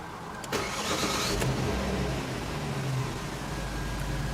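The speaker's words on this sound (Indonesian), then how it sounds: "Saya akan coba untuk starter mesin mobilnya ya, supaya kita bisa menggerakkan si kemudi ini." A 2003 Jaguar S-Type car engine cranks and catches about half a second in, then settles into a steady, even idle close by.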